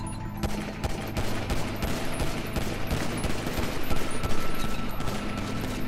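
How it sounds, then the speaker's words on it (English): Pistol gunfire in Grand Theft Auto V during a team match, loud rapid overlapping shots in a dense, continuous barrage that builds slightly toward the end, with no talking. "We're all just shooting over there."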